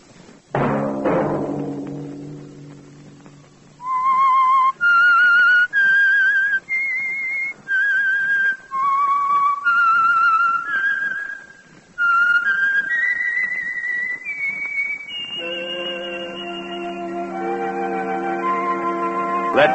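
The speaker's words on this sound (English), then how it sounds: "Let that whistle be your signal" A whistled melody of clear, steady notes plays alone after a brief musical swell, then fades into an orchestral chord.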